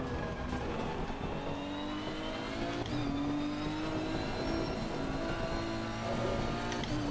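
A GT race car laps a wet Silverstone in Assetto Corsa Competizione, its engine droning loud and steady with rising and falling revs through the corners.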